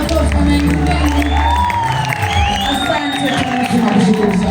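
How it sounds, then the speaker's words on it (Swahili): A church congregation claps loudly and steadily, with cheering and shouting mixed in, close and continuous throughout. "Tukuza makofi mengi mengi"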